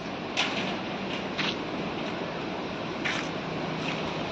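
Steady roar of strong wind and rain from Cyclone Remal on a highway in Assam, northeast India, a continuous broadband rush with brief louder gusts and no voices.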